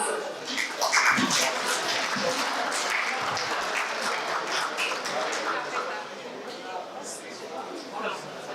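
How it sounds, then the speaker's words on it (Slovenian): Applause at a chess championship award ceremony as girls from a Maribor chess club walk up to the stage, with steady clapping from a crowd and murmured talk underneath. "Aplavz."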